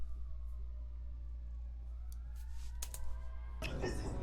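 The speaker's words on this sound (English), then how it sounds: "Ambulance is going crazy today." An ambulance siren wails outside, its rising and falling tones faint and distant behind a steady low indoor hum, with a few sharp knocks and a burst of louder noise near the end.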